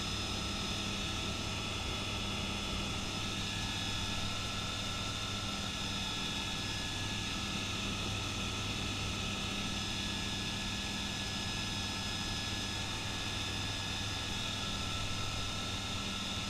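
A microlight aircraft engine drones steadily and loudly in flight as the plane turns onto the crosswind leg of a circuit, a constant propeller hum with no talk over it.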